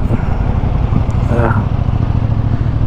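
CFMoto NK450 motorcycle cruising on a road, a steady low engine drone with wind rumble throughout while a rider speaks over it.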